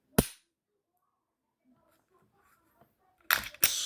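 A Glock pistol trigger with roughly a 5.5 to 6 pound pull dry-fires: one sharp, close click near the start, then quiet, then a pair of louder crisp clicks at the end as the trigger resets and breaks again.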